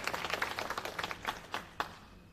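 A ceremony audience gives a round of applause in faint, scattered claps that thin out to a few last isolated claps.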